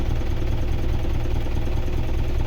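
A diesel engine runs close by at raised revs, a dense, steady rumble with a faint knocking texture and no pause.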